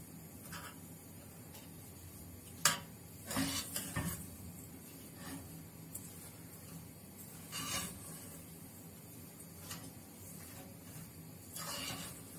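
A spoon works through coconut cookie mixture in a pot over heat, quiet scraping and rubbing strokes in uneven bursts with a couple of sharper knocks against the pot, close and soft with no talking.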